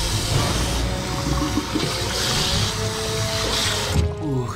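Water rushes steadily from a tap or basin for washing the face with cold water, loud and close, with no talking, then it cuts off near the end.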